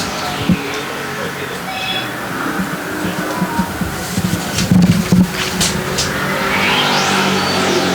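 Limited sportsman race cars circle an oval track at Thompson, their engines droning steadily as a pack with rising and passing roars, while a commentator talks over the continuous noise.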